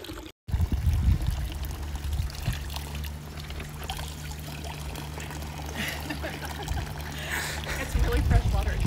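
Fresh mountain water pouring from a fountain in Switzerland, a steady close splash and trickle that runs continuously after a brief knock at the start, with people speaking over it.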